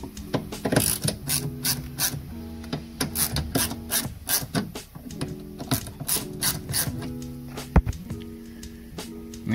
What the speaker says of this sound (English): we're gonna remove a few bolts on here and remove the motor out of its place